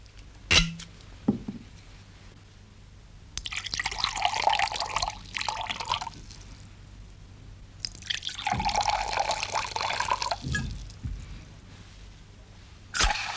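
A studio sound effect of whiskey and soda poured into a glass: two long bursts of splashing, gurgling liquid with drips in between, close and clear, followed by a short clink at the end, with no voices.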